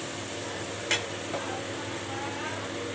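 Prawns coated in salt and turmeric fry in a pan with a soft continuous sizzle, close by, broken by one sharp scrape or stir near the start and a fainter one after it.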